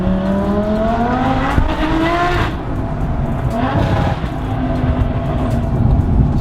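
A supercharged Lamborghini Huracan with an 850-horsepower engine revs hard through its exhaust, a loud, close, continuous roar with rising and falling engine pitch and a raspy, crackling edge.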